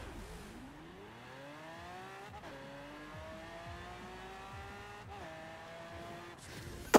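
A high-powered car accelerating hard in Forza Horizon 4, its engine pitch climbing steadily and dropping sharply at each of several gear shifts, up to third gear, loud and continuous.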